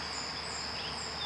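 Honeybees at an opened hive give a steady, soft, continuous buzzing drone, heard close by with no talking.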